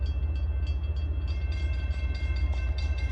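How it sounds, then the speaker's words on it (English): Train rolling past on railroad tracks near dusk, a loud continuous low rumble with rhythmic clickety-clack of wheels over rail joints, close by and steady. "here comes the train."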